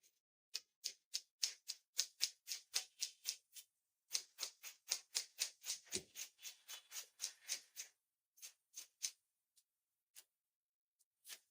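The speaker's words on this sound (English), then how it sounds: "Now I'll start cutting this way." Scissors cut through suit trouser fabric in a steady series of crisp, close snips, with one brief pause midway and a few slower cuts at the end; no one speaks.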